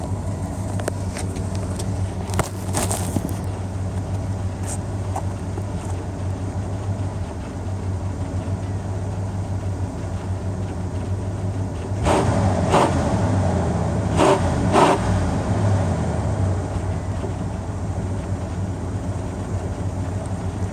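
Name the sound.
Cadillac Fleetwood Coupe Deville engine revving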